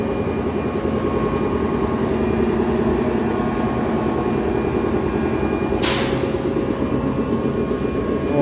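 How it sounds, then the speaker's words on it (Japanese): A steady electric train motor of a JNR 415 series train on the Kagoshima Main Line drones and hums loudly throughout, with a sudden burst of hiss partway through. "この415のですね、モーター音は結構子供の頃からよく聞いてる音なので好きなんですけどね"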